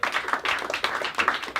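Applause at a blues festival press conference, a short burst of clapping from a small gathering with uneven, separate claps.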